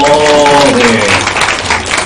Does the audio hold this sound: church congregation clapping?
yes